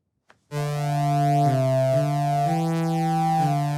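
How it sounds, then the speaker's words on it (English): A steady harmonic tone sounds with an added sine wave, the pitches stepping between held levels so specific harmonics stand out; a brief soft click comes before the loud, sustained tone, with no voice. "we're going to go back and add a sine wave to that, and we'll see what happens"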